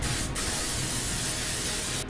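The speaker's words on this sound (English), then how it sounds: "I'm going to use the same setting spray again." A sustained hissing spray from a makeup setting spray pump bottle, one continuous close burst lasting about two seconds.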